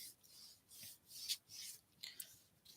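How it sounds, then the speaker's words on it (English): An eraser rubs glue off a Halloween craft piece in quick, soft, scratchy strokes, about six short bursts in an uneven rhythm, faint and close with no talking. "I'm rubbing glue off a thing with an eraser"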